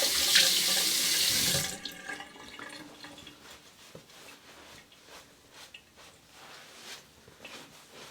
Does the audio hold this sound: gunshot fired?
no